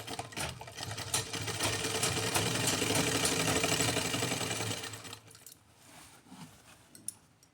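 A sewing machine stitching elastic into a waistband of pants runs in one loud, steady, close whirring stretch for about five seconds, then stops, leaving faint handling sounds and a small click.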